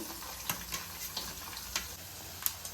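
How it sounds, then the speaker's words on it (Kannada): Chopped onions fry in a pan for tomato chitranna, giving a soft, steady sizzle. Sharp clicks of a spoon stirring against the pan come every half second or so, close by, and no one speaks. "ಈರುಳ್ಳಿ ಚೆನ್ನಾಗಿ ಫ್ರೈ ಆಗಿದೆ"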